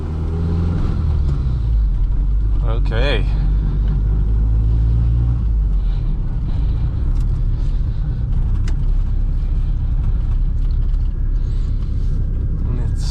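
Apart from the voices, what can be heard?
1.8T Mk2 car engine revving on a dyno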